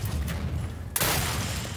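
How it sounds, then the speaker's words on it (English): A grenade explosion in the video game Turning Point: Fall of Liberty, a sudden loud burst with a crackling, glassy spray that cuts through dense, continuous game noise and lingers briefly. "Was that grenade made of glass and fireworks?"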